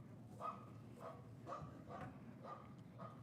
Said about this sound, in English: That's a dog, isn't it?